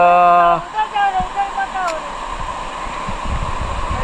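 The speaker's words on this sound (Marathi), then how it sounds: "पाण्याचा प्रवाह खूप आहे" Loud, steady rush of a strong-flowing stream at Umberkhind fills the clip after a brief voice at the start.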